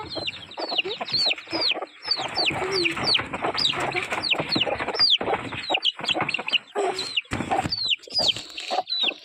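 A loud, close flock of chickens clucks steadily while many chicks cheep high and rapidly over the top.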